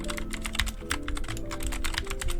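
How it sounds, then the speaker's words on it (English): Fast typing on a Clix Cotton Candy 60% mechanical gaming keyboard gives a quick run of crisp clicks, close and fairly quiet over a faint steady hum. "If you guys want some keyboard ASMR with this, let me know."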